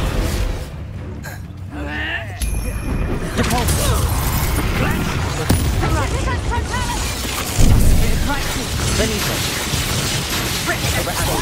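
Fire spells are cast repeatedly during a Hogwarts Legacy duel, with bursts of flame and booming impacts amid other magical effects, a loud busy mix with a sharp surge near the end.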